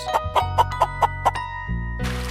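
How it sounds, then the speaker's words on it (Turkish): A quick series of short, clucking pulses in a bouncy rhythm, followed by a brief lower hum and a burst of noise. "Tavuk gıdak gıdak der"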